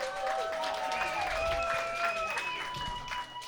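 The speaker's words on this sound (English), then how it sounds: "Another round of applause for Matt Zitron, please." A stand-up comedy crowd applauds a finalist at the end of a set, with fairly quiet clapping and a sustained tonal sound, such as music or whooping, running over it.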